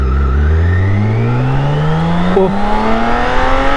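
A 2023 BMW K1600 Grand America motorcycle accelerating hard in dynamic mode, its engine note climbing steadily in pitch through the gear, loud and close, with a brief exclamation partway through.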